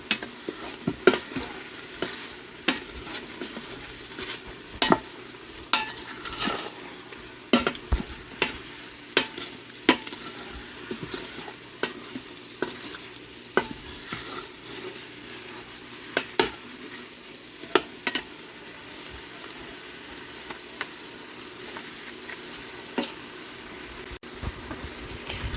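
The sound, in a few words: stirring browning beef with seasoned salt and Worcestershire sauce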